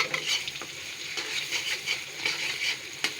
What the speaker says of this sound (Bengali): প্রথমে এগুলো একটু লাল লাল করে ভেজে নিই লোকটা একটু দিয়ে দিলাম এখন ভালো করে নাড়াই